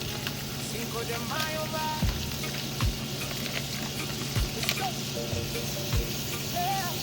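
Butter melts and sizzles in a pan in a hotel room kitchen, a steady moderate hiss with a few low thumps and faint tonal background sounds, and no talking.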